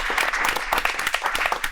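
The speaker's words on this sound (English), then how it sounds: "So clap it up before we get started." Brief burst of audience applause at the start of a live podcast conversation, close and lively with individual claps standing out, no talking over it.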